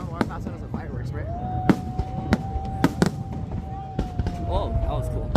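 Fireworks exploding at Boston's America 250 Fourth of July drone and firework show, with scattered loud bangs over a continuous crowd murmur and a rising whistle, while people talk close by.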